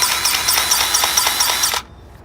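Hand-pumped grease gun pressed hard onto a truck grease fitting, giving a dense, close mechanical rasping with several quick pulses before it cuts off abruptly.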